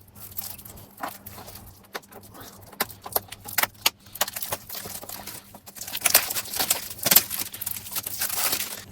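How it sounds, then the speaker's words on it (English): Plastic shrink wrap being peeled and crinkled off a Terrifier 3 4K disc case, a run of close, irregular crackles and rustles that grows busier and louder toward the end, with faint low hum underneath. "We're going to take the slip cover off, and let's take the plastic off,"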